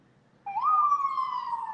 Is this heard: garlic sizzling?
no